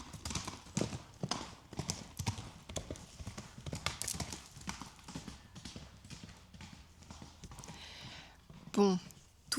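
Horses carrying riders walk past on a path, their hooves clip-clopping in a steady, fairly close rhythm, with people's voices exchanging brief greetings and chatting over the hoofbeats.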